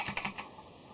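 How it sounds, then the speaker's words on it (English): Typing on a CM Storm mechanical keyboard with blue clicky switches, a quick burst of several sharp key clicks close to the mic, trailing off into quiet. "CM Model M blue click keys."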